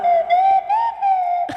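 A slide whistle plays one sustained, loud wavering tone that swoops gently up and down with short breaks, ending in a brief noisy burst.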